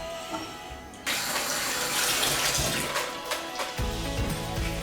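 Dumplings boil in a pot of water, a quiet hiss giving way to a louder, continuous bubbling and rushing of water close to the microphone.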